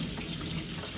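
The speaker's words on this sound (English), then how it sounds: "while that's cooking, I'm just gonna get my hand rinsed off" Steady rush of water from a running tap as hands are rinsed under it in a kitchen while food cooks, close and continuous with no speech.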